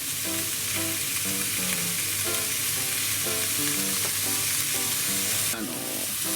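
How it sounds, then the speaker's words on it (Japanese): A rolled block of pork belly sears over high heat, giving a loud, steady sizzle and crackle of rendering fat that runs without a break. Scattered pops and spatters sit on top of it, and no one speaks. "しっかりと焼き色をつけて油を出していきます。"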